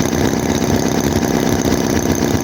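A Holt H75 four-cylinder model engine idles steadily and evenly, a loud continuous mid-pitched hum with a fine, regular pulse and no voices over it.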